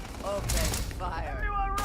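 Gunfire in the video game Starfield: a few sharp shots and a short burst under a voice talking, with synthetic tones ringing through the mix.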